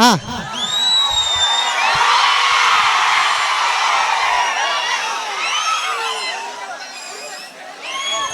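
An audience cheering and whooping, with shrill whistles rising and falling above a dense, loud roar of crowd noise that holds steady throughout.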